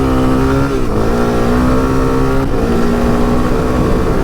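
A carbureted Suzuki DR 350 enduro motorcycle engine revs loudly and steadily up close, its pitch dipping and climbing through a couple of throttle changes with no talk over it.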